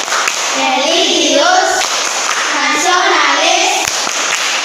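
A group of schoolchildren in a classroom performs the tepuk PPK clap chant, shouting words in unison between rhythmic bursts of clapping. The claps and voices are loud, close and continuous.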